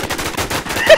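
Rapid gunfire from a multiplayer video game shooter, with a sniper rifle and shotguns in play: a dense, continuous burst of overlapping shots throughout the second, loud and close.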